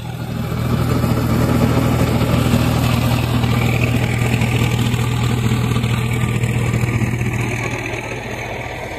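A steady mid-pitched tractor engine runs a multicrop thresher continuously, loud and close, with a constant low hum throughout.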